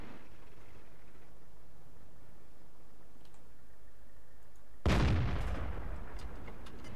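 In World of Tanks, a Cruiser Mk II tank cannon fires once: a sudden, heavy blast that rumbles and slowly decays. Before it, quiet battlefield ambience runs for several seconds.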